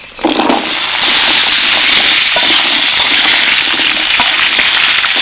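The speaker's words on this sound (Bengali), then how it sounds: "আলু আর পেঁপেটাকে ভালো করে ভেজে নেব।" Papaya and potato pieces fry in a pan with hing, chopped ginger and curry leaves, making a loud, close, continuous sizzle that jumps up abruptly after a brief quieter start and then holds steady.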